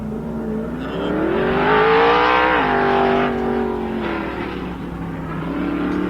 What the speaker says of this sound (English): Wade Coleman is now on course.